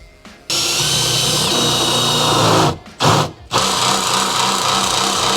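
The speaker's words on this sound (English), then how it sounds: "I'm gonna drill a hole so then all the wiring can just fit through here" A power drill runs loud and steady, pausing briefly twice before whirring on again, with grinding texture as it bores a hole for wiring.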